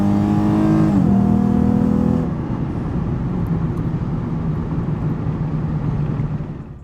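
A 2011 Lexus IS350 F Sport rolls into a parking spot, its engine note dropping from a brief rev to a steady low hum that fades as the car comes to rest, with no talk.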